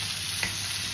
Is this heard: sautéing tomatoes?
yes